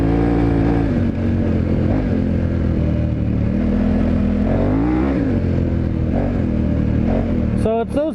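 Dual sport motorcycle throttling hard through deep sand on an adventure/50-50 tire, a loud, steady engine drone with wavering revs throughout, close to the rider.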